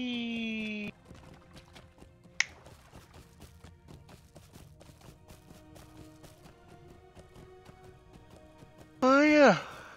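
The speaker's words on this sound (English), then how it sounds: "Oh yeah, this is a slow horse." Horse hooves clip-clop at a steady, unhurried pace in the video game Lord of the Rings Online. The quiet hoofbeats sit under game music and chiming tones, with brief louder musical bursts at the start and end.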